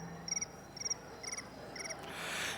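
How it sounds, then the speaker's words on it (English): Crickets chirping as a sound effect, with a few short rhythmic bursts of high trilling chirps in quick groups, fairly faint, ending in a soft hiss. "I'm about to hear the crickets"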